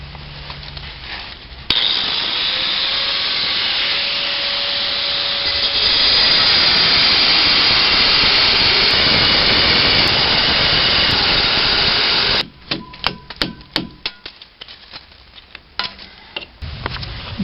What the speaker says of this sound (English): cut through the brick with this angle grinder